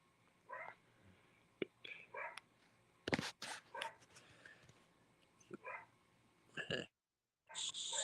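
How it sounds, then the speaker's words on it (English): A dog barks in short scattered bursts at a moderate distance, with faint murmuring voices and room noise between the barks. "He is probably barking at the sky for something."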